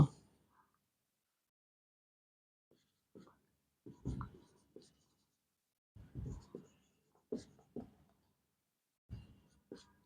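Pen or chalk writing by hand during a maths lesson, a sparse series of short scratchy strokes and taps spread over several seconds with quiet gaps between, heard close and faint.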